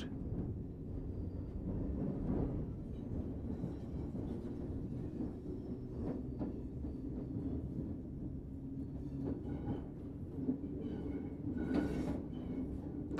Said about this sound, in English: allowing the train to coast for a short distance.